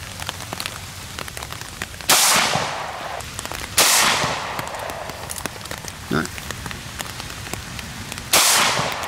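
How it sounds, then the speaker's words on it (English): Steady rain patters outdoors at a ceramic armor shooting test, a dense hiss of drops throughout, broken by several loud sharp bursts from nearby gunfire or impacts. "Alright, so we're getting rained out here"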